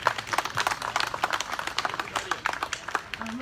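An audience at a political party's programme presentation applauds, a steady patter of many hands clapping at moderate volume, continuous throughout.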